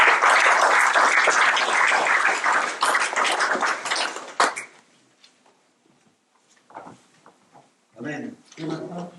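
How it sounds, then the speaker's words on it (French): Church congregation bursts into loud, dense clapping and cheering for about four seconds, then breaks into scattered claps and quieter stretches before short renewed bursts of applause near the end. "Nous allons acclamer plus fort"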